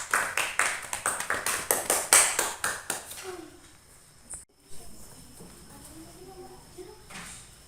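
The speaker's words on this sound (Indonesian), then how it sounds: "Ayo tepuk tangan buat kawannya." Classroom students clap for a classmate, a quick run of distinct, fairly close claps for about three seconds before fading into quiet room noise with soft talking afterward.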